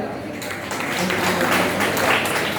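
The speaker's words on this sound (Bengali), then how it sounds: "গার্জেনদের জন্য একটা বড় হাততালি দেন" An audience at a district yogasana sports championship in Krishnanagar breaks into applause that swells over a couple of seconds, mixed with crowd voices.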